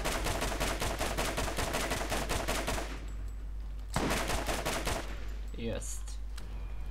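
Rapid bursts of rifle gunfire in the video game Borderlands, loud and dense for about three seconds, then a short second volley after a pause, with a faint voice talking underneath.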